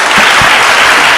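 A presentation audience at a college event on gender-based violence gives a short, loud burst of applause that fills the whole moment.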